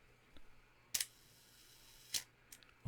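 A film camera's shutter fires at a one-second exposure, giving a sharp click that opens and then a second click about a second later that closes, with a fainter tick after it in a quiet room.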